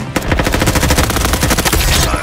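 Rapid automatic gunfire rattles in a Roblox shooting game, a loud unbroken burst of evenly spaced shots lasting about two seconds, close and dominant with no talking over it.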